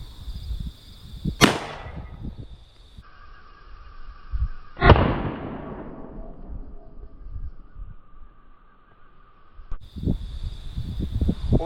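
A .44 Magnum round fired at about 1500 feet per second smacks a thin piece of steel held up on a board, giving two sharp, loud cracks a few seconds apart, each with a ringing decay, amid quiet outdoor ambience.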